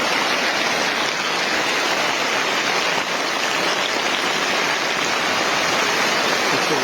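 Heavy rain pouring down outdoors, a dense, steady hiss with no break, loud and close throughout and no voices.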